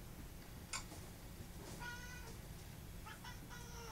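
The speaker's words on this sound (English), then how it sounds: "Here comes my cat." A house cat meows two or three times in short, fairly faint calls over a hissy background, with a sharp tick just before the first meow.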